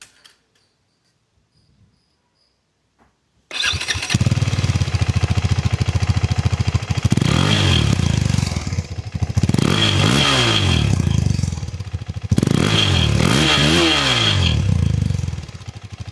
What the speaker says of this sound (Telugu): ఒకసారి ఈ బైక్ ది ఎగ్జాస్ట్ నోట్ కూడా వినిపిస్తుంది